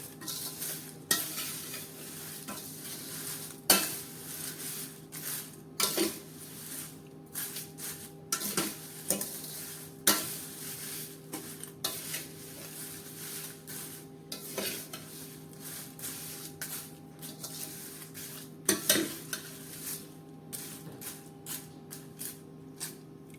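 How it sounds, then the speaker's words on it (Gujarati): Papad pieces are tossed and mixed with poha and chevda snack in a pan, producing dry rustling and scraping with scattered sharp clinks of a spoon against metal, fairly close, with no voices. "પાપડને પણ સારી રીતે પૌવા સાથે અને ચેવડા સાથે મિક્સ કરી જો"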